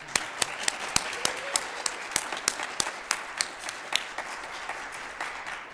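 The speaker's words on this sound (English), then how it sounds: "I would like everyone to join me in a round of applause for Deb" Scattered clapping at a Sunday church celebration service honoring a departing member, sharp individual claps spaced out in an irregular rhythm, fairly faint and thin, as though a small congregation is joining in.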